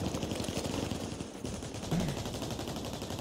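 Rapid gunfire in a battle royale video game during a fight, a dense stream of shots with a brief pause midway, loud and continuous throughout.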